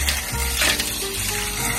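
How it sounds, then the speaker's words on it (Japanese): Sazare stones being washed in a rice-washing bowl under running water, a continuous close hiss of water with gritty clinking and rattling of small stones shifting in the bowl. "さて次はこのねサザレ石を洗っていきます。"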